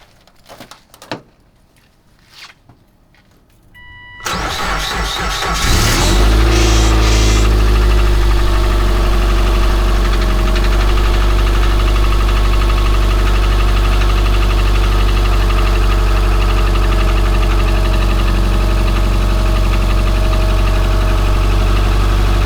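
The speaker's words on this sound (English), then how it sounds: "we'll see how well the car starts with the block heater" A car cold-starting at -13°C with its block heater on: a few faint clicks, a brief cranking whir, then the engine catches and settles into a loud, steady idle that runs unbroken to the end.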